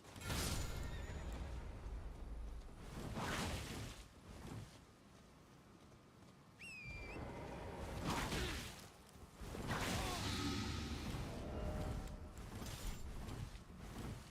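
Horse neighing in the Elden Ring video game, several loud whinnies and whooshing bursts spread across the stretch over a steady game background, with no talk.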